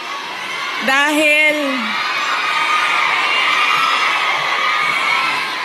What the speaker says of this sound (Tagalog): Dahil kayo ay sumisigaw ng Duterte